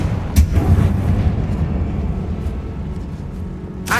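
A Confringo blasting spell explosion in the Hogwarts Legacy video game, a deep booming rumble that hits near the start and rolls on loudly, with a sharp burst at the very end.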